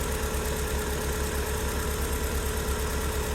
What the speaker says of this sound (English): engine is completely warmed up.